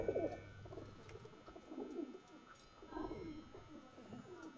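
Deep pigeon coos in a slow series of about four phrases, close by, with a faint hum beneath.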